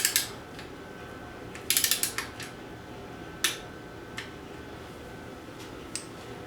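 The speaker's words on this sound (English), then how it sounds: "I'm going to go ahead and torque this one down for right now." A ratchet torquing down a bolt on a Foxbody Mustang engine in a garage, giving bursts of sharp clicking strokes, a quick rattling run near the start and several isolated single clicks later, close and crisp with no speech.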